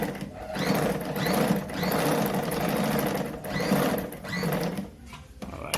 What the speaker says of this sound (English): so when I sew through